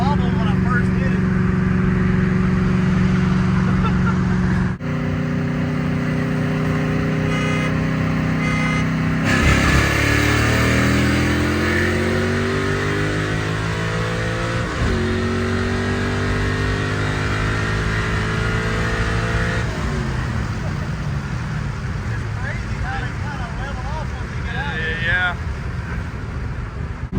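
A 1965 Ford Mustang racing a BMW M3, with engines roaring and revving through repeated rising gear pulls and shifts, loud and close over wind noise, with voices talking over it.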